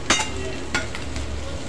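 Onions frying in a pan for kaju masala under a continuous sizzle, with a couple of scraping stirs from a spoon, close by.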